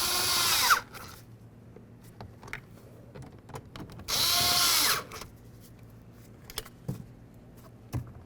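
A cordless power driver tightens door handle screws on a 2006-2010 Ford Explorer door, giving two short, loud whirring bursts separated by quiet clicks and handling noises.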